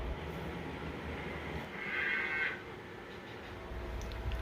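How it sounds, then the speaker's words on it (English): Locomotive pulling two boxcars in reverse, a low steady rumble of rolling rail cars with a brief squeal rising in the middle, heard from a moderate distance. "the locomotive is having to pull these two boxcars in reverse"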